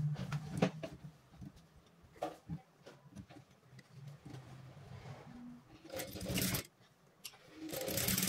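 A sewing machine stitches a blouse in short bursts, its motor whirring in on-and-off runs with quiet pauses between, close by and fairly soft, with a longer run at the end and no one speaking.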